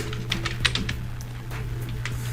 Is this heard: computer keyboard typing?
yes